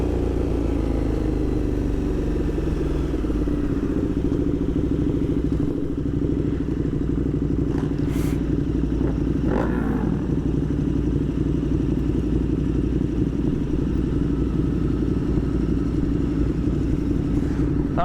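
Motorcycles including an R7 rumble together on an end-of-season group ride, a loud, steady low engine drone with occasional rising revs and light clatter passing by.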